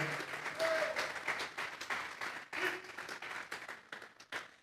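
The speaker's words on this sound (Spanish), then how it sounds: "Vamos a darle una ofrenda de palmas a Dios en esta hora." A church congregation claps in a loud, uneven burst of applause during a sermon, with no talk on top.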